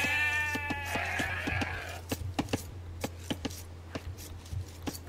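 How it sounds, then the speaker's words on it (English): Sheep in the Age of Empires II Definitive Edition strategy game bleat several times at the start, then a steady run of short clicks and taps follows, all over a constant low background hum. "Oh, got some more sheep up there."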